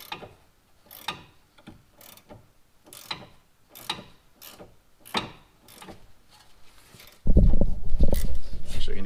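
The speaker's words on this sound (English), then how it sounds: "I'm going to get this back nut off now." A ratcheting wrench loosens the rear nut on a sway bar link of a 2011 Chevy Equinox, giving a series of sharp, close clicking bursts roughly every second. A loud rumbling handling noise takes over near the end.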